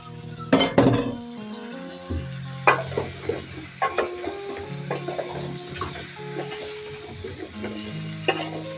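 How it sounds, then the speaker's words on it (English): Potatoes being stirred in a hot pan while they fry, with a steady sizzle under repeated scraping and clinking strokes that come in short bursts, close and fairly loud, with no talking. "Give them a good stir, guys."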